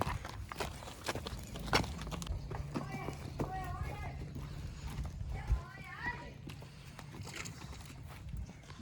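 A horse's hooves clop at a slow walk close by on hard ground, mixed with someone talking and birds chirping in the background.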